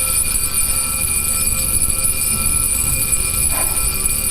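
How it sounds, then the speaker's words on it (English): A diving watch's alarm rings through a small built-in loudspeaker: a steady, continuous buzzing tone with bright high overtones, held at an even level throughout against a dense noisy background. "amplify the sound of the alarm that I am now trying to make sound."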